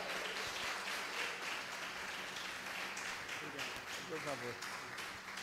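A church congregation claps for the pastor during a Sunday service, a steady wash of applause running through the whole moment with voices talking over it.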